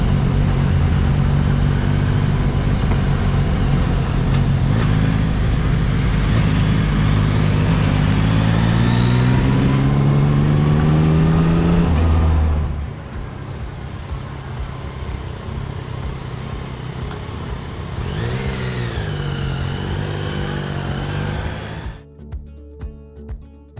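A 2024 Yamaha MT-09 motorcycle ridden through city traffic on a cold morning in north central California, its engine loud and close, revving and rising in pitch before easing off, then climbing again and dropping away near the end.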